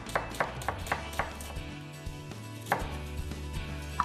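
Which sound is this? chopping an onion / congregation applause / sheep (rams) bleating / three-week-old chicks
chopping an onion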